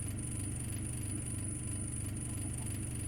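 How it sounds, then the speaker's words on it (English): Steady, droning mechanical hum of a noisy machine in modded Minecraft, constant and engine-like with a thin high whine running throughout, heard alone. "this machine right here makes the worst sound in the game"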